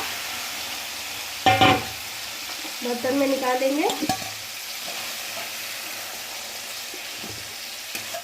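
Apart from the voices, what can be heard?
cooked pumpkin stirred and scooped out of pan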